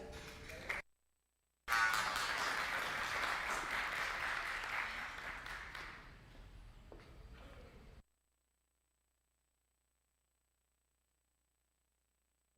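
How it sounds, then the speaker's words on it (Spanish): An audience at a conference gives loud applause for a lawyer and security analyst taking the stage. The clapping cuts in after a short gap, fades over several seconds, then stops abruptly into silence. "Les damos un fuerte aplauso"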